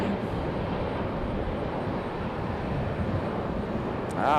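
A United Boeing 737-700 jet takes off at Raleigh-Durham airport, lifting early, its engines a steady broadband roar held at an even loudness throughout, swelling slightly near the end.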